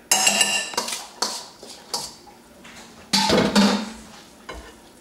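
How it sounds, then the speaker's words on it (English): Black beans being mixed into a bean and rice salad with avocado, a series of sharp utensil clinks and scrapes against a bowl, close and intermittent with quiet gaps. "Now we're going to add our black beans to the mix here."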